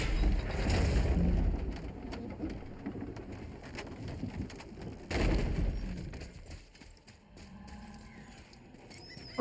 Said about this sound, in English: Oh, there's a raven.